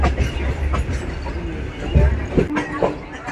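A Bitragunta–Chennai Central MEMU Express rolls slowly along the tracks with a steady rumble and clatter, heard from on board with some scattered rattles and clicks.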